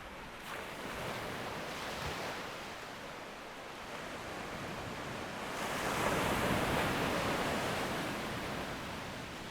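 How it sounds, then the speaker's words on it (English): Sea waves wash onto a Falklands shore in a continuous broad roar, swelling louder toward the end, with wind buffeting the microphone and no voices. "here's the sound of the sea."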